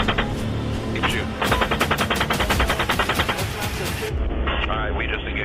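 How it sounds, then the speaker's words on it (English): Automatic gunfire from recorded military footage: rapid, rhythmic bursts of heavy shots hammering out in quick succession, loud and close, with a brief gap and a shorter burst near the end. "we got a guy shooting"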